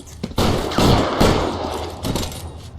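Gunfire crackles through a shootout in the game L.A. Noire: loud, close shots and short bursts, several sharp reports in quick succession over roughly three seconds, with no talking.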